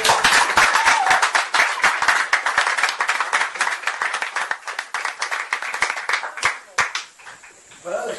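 A church congregation claps for the Lord, a dense run of many sharp handclaps close and loud that thins and fades toward the end, with voices mixed in.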